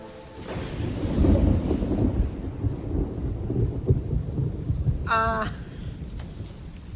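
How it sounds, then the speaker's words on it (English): A thunderstorm with rain rumbles low and heavy, a long roll of thunder over a steady wash of rain, with a brief sharp tonal sound partway through. "We're in the middle of a storm with no power."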